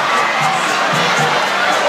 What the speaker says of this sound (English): all of this applause is for you